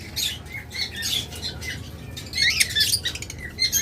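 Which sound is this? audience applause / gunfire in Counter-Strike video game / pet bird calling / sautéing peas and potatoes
pet bird calling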